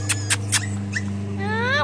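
Young puppies outdoors on their first time outside, letting out several short high yips followed by a rising, drawn-out whimper, close and over a low steady background hum.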